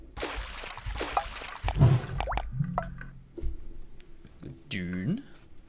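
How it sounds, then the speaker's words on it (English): Gurgling, splashing water drains down a hole in the video game Pitiri 1977, with drips and bubbly plops mixed with other game sounds and a rising tone near the end. "Water go down the hole."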